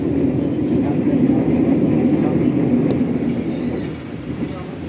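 Riding aboard the Tegal Bahari New stainless steel train built by PT Inka, a steady low rumble of wheels on rails fills the carriage, easing slightly toward the end.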